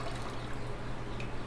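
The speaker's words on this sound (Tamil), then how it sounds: "அந்த தேங்காய் பால் அதில் ஊற்றிக்கோங்க" Thin second-extract coconut milk is poured into a cooking pot, giving a steady continuous liquid splashing and trickling sound, close and unbroken throughout.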